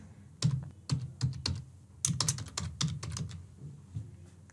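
Rapid bursts of clicking keys come from a computer keyboard as card details are typed in, the close, crisp taps arriving in uneven clusters with short pauses and no talk.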